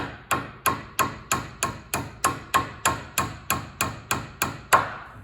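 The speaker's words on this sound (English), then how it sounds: "So I'll take my hammer here." A hammer taps a part clamped in a vise on an Allis Chalmers 175 tractor repair, about fifteen sharp, evenly spaced metallic strikes at a steady rhythm, close and loud, the last one a little harder.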